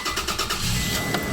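A high-mileage car's engine cranks and catches, settling into a steady mid-pitched running note, close and continuous with a faint chirp in the engine bay.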